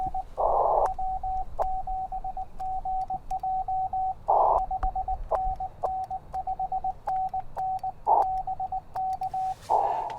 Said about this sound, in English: Continuous wave propagation is Morse code. We call it CW.